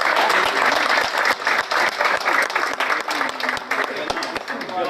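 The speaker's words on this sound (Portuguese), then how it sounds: "O mínimo que a gente pode fazer é dar uma salva de palmas" Outdoors at an open-air gospel preaching event, a standing crowd claps steadily in dense, lively applause. Voices speak over the clapping throughout.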